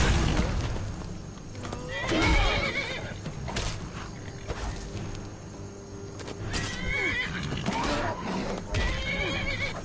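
A horse in the fantasy role-playing game Skyrim whinnies and neighs repeatedly, mixed with hoof clops and thuds of a scuffle, loud and close against game music and ambience, with someone talking at points.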